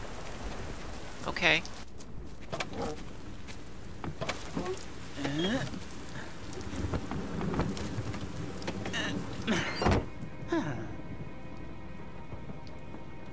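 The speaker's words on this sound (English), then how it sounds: "I feel like a sugar cube in the rain here." Rain falls steadily in the video game Last Day of June, a continuous patter with occasional thunder-like rumbles, while a person speaks briefly.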